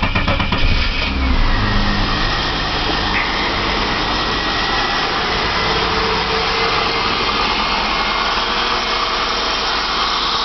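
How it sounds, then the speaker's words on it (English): Holden VS Commodore engine cranking and firing into life, a brief starter whirr and catch followed by a steady, loud idle that continues alone for several seconds. "There we go, start her up."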